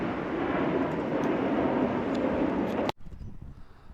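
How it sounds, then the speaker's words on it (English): A noisy airplane passes overhead above a steep suburban street in Sydney's Sutherland Shire, a loud broad roar that holds steady, then cuts off abruptly near the end, leaving a quieter background. "This noisy plane passing overhead,"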